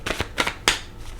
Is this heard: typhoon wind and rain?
no